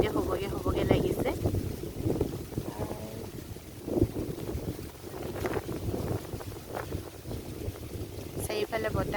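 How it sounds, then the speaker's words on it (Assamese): Strong cyclone wind gusts buffet the microphone in an open outdoor setting in Assam, a rough, roaring rumble that surges and eases throughout, with some low human sounds mixed in beneath the gusts. "চাৰিওফালে বতাহ মাৰিছে"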